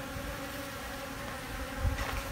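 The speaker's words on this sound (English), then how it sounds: "the bees are trying to take it over" A swarm of bees buzzing around a bathroom in Joshua Tree National Park, looking for moisture, a steady, dense drone close by with one louder pass near the end.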